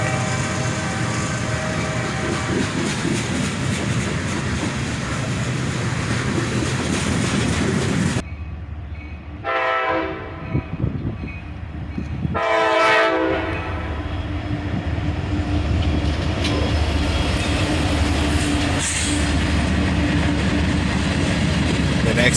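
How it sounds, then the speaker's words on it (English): Freight train led by an SD40-2 locomotive rolling past close by, a loud, dense rumble and rattle of cars with two sharp horn blasts in the middle, then steady wheel clatter continuing to the end. "we'd catch this one with an SD40-2 leading"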